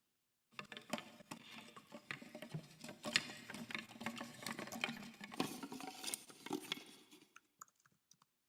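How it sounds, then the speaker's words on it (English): Sampled stick sounds played in a live coding performance: a dense, irregular patter of dry wooden clicks and taps, steady and fairly close, stopping abruptly near the end with a few scattered final ticks. "so this is the sound of some sticks"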